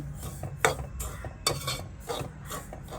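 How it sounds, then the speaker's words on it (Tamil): Semolina (rava) being roasted and stirred in a pan for a sweet snack, a close series of scraping strokes of a spoon against the pan roughly every half second, with a soft sizzle beneath and no speech. "இதை வறுத்து கொண்டே இருக்கிறேன்."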